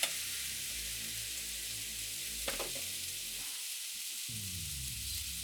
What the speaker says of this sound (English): So the sizzling is obviously the water from the washing, so you just want to keep them moving.